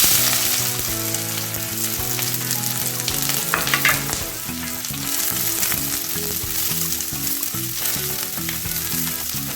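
Square-cut onion pieces dropped into hot oil crackle and sizzle steadily at close range, with rhythmic background music playing throughout and no voices.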